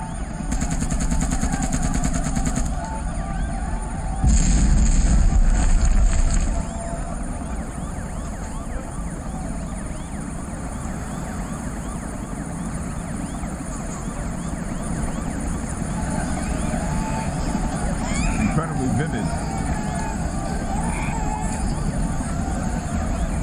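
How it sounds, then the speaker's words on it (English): Simulated explosions and gunfire from a virtual reality therapy system: continuous loud rumbling and crackling with bursts like gunfire and explosions, mixed with a siren-like wail, sustained throughout. "And we can set off other explosions."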